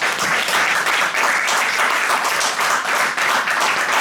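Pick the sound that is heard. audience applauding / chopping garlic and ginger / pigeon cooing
audience applauding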